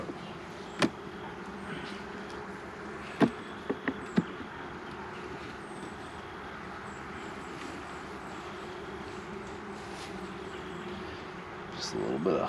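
Honey bees buzz in a dense, steady drone during a fall beehive inspection, with scattered sharp clicks and knocks from handling the hive frames.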